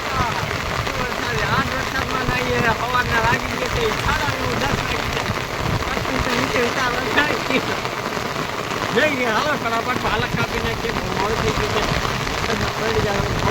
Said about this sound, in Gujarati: આમ જો વરસાદ